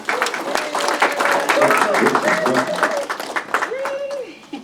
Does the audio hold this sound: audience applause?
yes